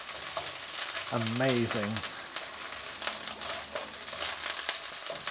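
Chilli beef aromatics sizzle and crackle steadily in a hot pan as shredded crispy chilli beef is made at home, a continuous bright frying hiss with a stirring scrape, while a voice speaks a single word over it.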